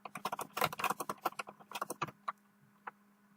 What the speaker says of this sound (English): I just did that by just simply typing it in